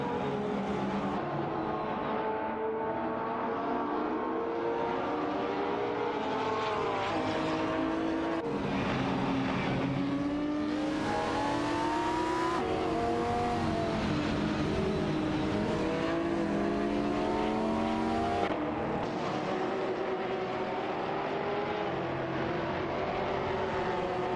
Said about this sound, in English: They exit the corner side by side, and it's going to be a drag race down the straight